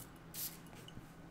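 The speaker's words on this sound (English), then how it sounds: "Let's see what the atomizer is." A single short hiss of a Middle Eastern fragrance bottle's atomizer spraying, close and fairly quiet, followed by faint handling sounds.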